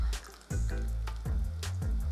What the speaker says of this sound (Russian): Добавляю кипяток.